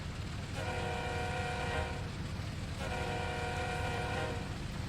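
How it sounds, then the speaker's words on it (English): Two long blasts from an ES44AC diesel locomotive's multi-tone horn in Train Sim World 2, heard from outside over a steady low engine rumble, each blast sustained about a second and a half with a short gap between. "Couple of big blasts on the horn."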